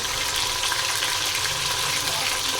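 Chopped tomatoes tipped into onions frying in a pan for street-style daal mash, giving a loud, steady hiss and sizzle throughout with no talking.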